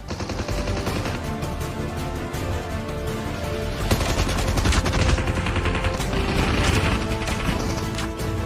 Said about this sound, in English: Now, these guys are shooting to someone in there.